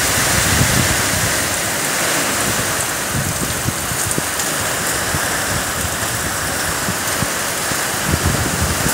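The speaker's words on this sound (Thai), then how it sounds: "แล้วเสียงฝนค่ะแรงมาก" Heavy storm rain pours down steadily in a dense, loud hiss, with gusts of wind swelling through it and scattered drops pattering on nearby surfaces, no voices.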